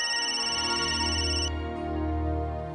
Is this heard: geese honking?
no